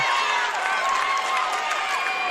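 Fans at a high school state tournament basketball game cheer and shout in a steady, dense roar of voices, with no single voice standing out.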